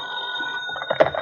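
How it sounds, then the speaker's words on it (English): An old telephone bell rings steadily and insistently in a radio mystery drama scene, a continuous metallic trill with a burst of louder clatter near the end. "pick that other phone off the hook, Dollar"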